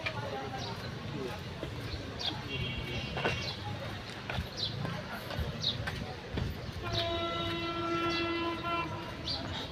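A train approaches and rolls past a trackside walking path on a hot, sunny day, its horn blaring in sustained tones over the rumble of the wagons. A person talks nearby throughout.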